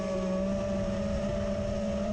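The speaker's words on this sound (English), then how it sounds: "just put a different battery on the same quad to see the difference. And yeah, it flies." Steady, loud drone of a Halorc Osiris quadcopter flying outdoors in wind, a constant high motor whine with strong harmonic tones and buffeting low rumble, no talk.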